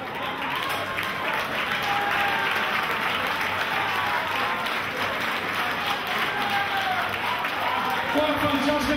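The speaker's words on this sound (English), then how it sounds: "Let's have a massive round of applause for both warriors." A crowd at a UK MMA fight night bursts into sustained, dense applause after the bout, a loud, even wash of clapping and cheering that holds steady for the whole stretch.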